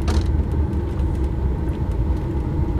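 A small car rolls past on a country road during a potato harvest, a continuous close rumble and engine whir, loud and steady throughout with no speech over it.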